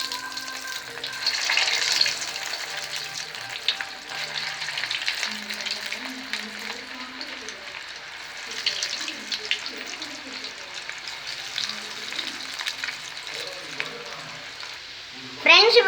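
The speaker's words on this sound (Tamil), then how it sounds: "இப்போ நம்ம எடுத்து வச்சுருக்க பொட்டேட்டோ ஃபிங்கர்ஸை பொரிச்சு எடுத்துக்கலாம்" Potato fingers deep frying in hot oil, a steady close bubbling sizzle that runs throughout, with a brief louder crackle right at the end.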